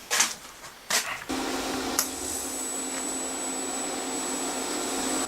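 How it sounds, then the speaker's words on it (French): A power drill bores through a metal plate for a table base, running as a loud, steady whine with a few short bursts before settling into continuous drilling. "je vais percer la plaque là, pour mettre mon plateau"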